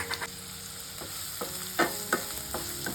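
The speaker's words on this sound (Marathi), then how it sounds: "आपला कांदा चांगला परतून घ्यायचा" Chopped onions sautéing in a pan for a soybean vegetable curry, with a steady sizzle and a few scattered spatula scrapes and stirs, close and moderately loud.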